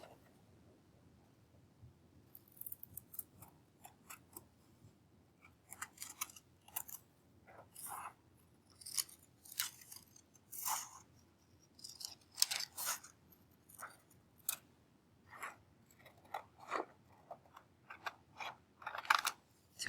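Scissors snip through paper for a school craft project, a run of quiet, crisp cuts in irregular clusters at close range with no talk.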